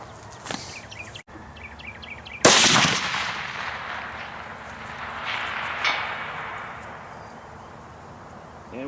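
A .308 rifle shot fired at a steel target 800 yards away outdoors: one sharp loud crack, followed by a long, fading echo rolling across the terrain, with birds chirping faintly early on.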